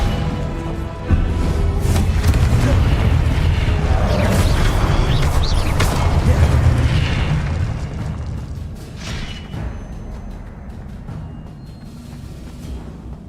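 Incendio fire spell cast in Hogwarts Legacy, a loud booming rush of flame with a heavy low roar and crackling bursts that swells for several seconds, then fades into a lingering quieter rumble.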